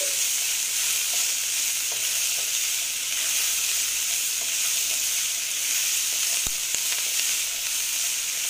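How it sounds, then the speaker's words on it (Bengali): Small chopped capsicum pieces frying in a pan for an oats snack, giving a loud, continuous close hiss and sizzle with no talking. "আবার সুন্দর করে ভেজে নিচ্ছি।"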